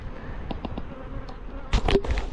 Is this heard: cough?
no